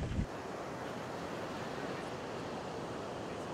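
Ocean surf rolling steadily onto a beach, a continuous broadband wash with wind buffeting the microphone, alone and at a moderate level.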